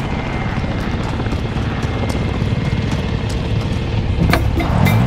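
Helicopter in the video game Warzone: a continuous low rotor and engine drone fills the clip, steady and loud, with a few sharp transient bursts near the end.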